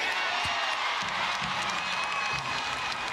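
A crowd at a Louisville vs Texas NCAA women's basketball game in the Texas home arena cheers as a steady roar, with broadband noise and occasional thumps underneath throughout.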